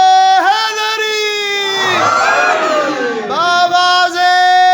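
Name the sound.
crowd chanting religious slogan in response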